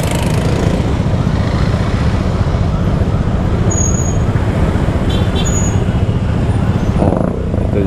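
Heavy road traffic heard from a moving motorcycle: a constant loud rumble of engines and road noise, with faint passing vehicles and occasional brief high tones, and a short voice near the end.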